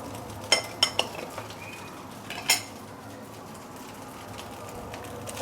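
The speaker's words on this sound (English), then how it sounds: "Still on high, medium high heat right now, and give it some few stir." A metal spatula clinks and scrapes in a pan as Yangzhou fried rice with char siu and spring onion is stirred over medium-high heat, a few sharp taps over a faint sizzle, no voices.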